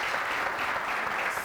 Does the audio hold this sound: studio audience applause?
yes